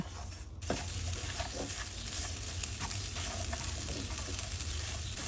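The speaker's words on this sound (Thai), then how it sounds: "ใส่เกลือป่น นำลงไปคั่วให้หอมก่อนเลยนะคะ" Ground salt dry-roasting in a hot pan, ahead of roasting peanuts, gives a steady, grainy hiss broken by scattered scraping ticks from close by, with no voices.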